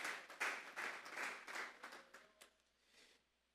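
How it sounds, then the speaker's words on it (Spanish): Crowd applause at a Spanish-language church service, a burst of many hands clapping that swells, holds for a few seconds and then tapers off into quiet. "Vamos a darle un fuerte aplauso pues al Señor."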